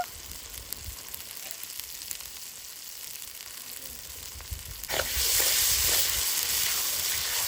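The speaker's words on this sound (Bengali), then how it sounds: "মশলাটা এখন হালকা আছে, ভালো করে ভেজে নেব" Spice paste with turmeric and salt sizzles steadily in a pan while being stirred for a village-style duck curry at a riverside winter picnic, and the frying swells louder and brighter partway through.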